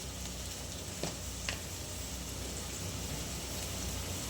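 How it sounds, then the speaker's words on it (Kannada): Spices frying in a pan for aloo palak, a steady, dense sizzle and crackle that carries on throughout, with a couple of faint clinks near the start. "ಇದೆಲ್ಲ ಹಾಕೊಂಡು ಚೆನ್ನಾಗಿ ಫ್ರೈ ಮಾಡಿಬಿಡೋಣ"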